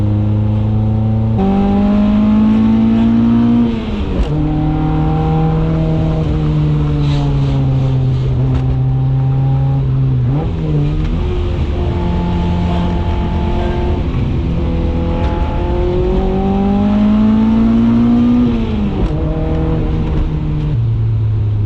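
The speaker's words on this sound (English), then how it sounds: "This car is a lot of fun to drive." Toyota KE70 Corolla engine driven hard, loud and close throughout, with repeated rising revs through the gears and brief dips at each shift, no talk over it.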